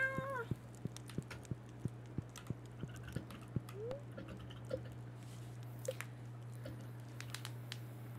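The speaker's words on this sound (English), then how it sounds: "Oh, the cat!" A cat meows a couple of times in the farming video game Stardew Valley, short rising cries set among a steady run of soft rhythmic taps and a constant low background drone.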